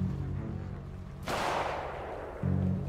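A single sharp, loud gunshot cracks midway through a role-play video game scene, set against a low, steady background hum with no talking.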